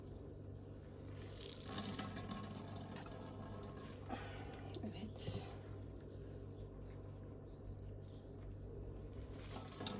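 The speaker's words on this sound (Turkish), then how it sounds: "Bunun suyunu iyice sıkıyoruz" Water wrung by hand from grated zucchini, a wet, dripping and trickling sound that runs steadily for the whole stretch at moderate level, with a few louder squeezes and no talking.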